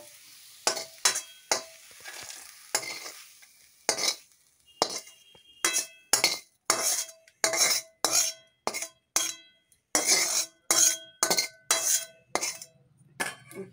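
Metal spatula scraping and clinking against a wok while fried small shrimp are lifted into a bowl, a long run of sharp, close, evenly spaced clatters with quiet gaps and no talking.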